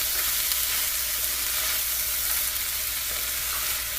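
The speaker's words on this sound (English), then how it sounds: "And stir all these seasonings up in here." Black pepper, salt and other seasonings are stirred around in a hot frying pan for corn chowder, giving a steady, close sizzle with no talking.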